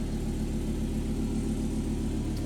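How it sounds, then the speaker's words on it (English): A car engine with an M66 engine idles steadily up close, a low, even, continuous hum with no voices. "she's idling"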